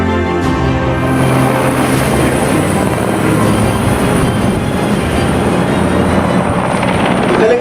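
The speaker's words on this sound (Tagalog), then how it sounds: "Helicopter ba yun?" A helicopter roars overhead in a staged rescue scene, loud and steady with a heavy low rumble and a faint high whine, continuous and close, with no talking over it.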